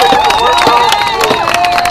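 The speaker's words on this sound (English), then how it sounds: "Let's give a round of applause to our bicyclists," Marchers at a protest for Adam Toledo clap and cheer loudly at close range, a dense burst of hand claps and shouts mixed with whistles and voices in the crowd.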